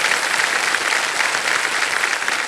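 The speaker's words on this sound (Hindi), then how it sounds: "तालियां बज जाएं इनके लिए।" Studio audience on the quiz show KBC applauding guests, a loud, dense, continuous burst of many people clapping, steady throughout with no voices standing out.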